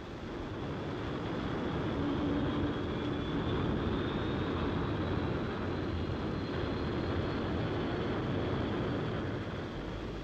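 A de Havilland Comet jet airliner in flight, heard as a steady, continuous broadband engine roar with a faint high whine, even in level throughout, with no talk.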